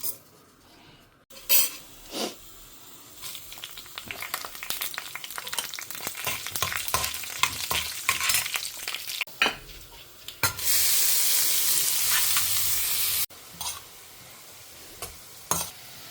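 Shredded cabbage sautés in a pan with mustard seeds and lentils for a Tamil home dish. A spoon scrapes and clatters repeatedly, then a loud, steady sizzle swells for a few seconds before the stirring taps return.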